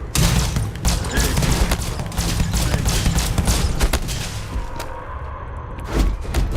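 Rifle fire in Starfield, dense repeated shots and thudding impacts in a busy firefight, loud and continuous with scattered sharp cracks over several seconds.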